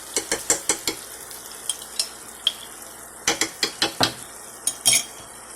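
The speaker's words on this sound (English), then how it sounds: "So this is where you would add your butter, but I'm adding my ghee." Ghee stirred into a simmering seafood sauce in a pan: a soft bubbling sizzle sits under a run of sharp, close utensil clicks and scrapes against the pan, coming in irregular bursts with no one speaking.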